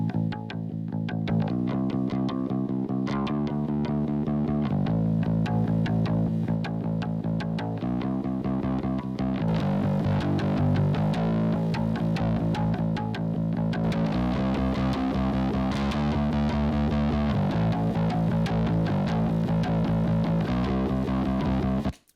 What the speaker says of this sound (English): I'm going to pull in red light distortion here.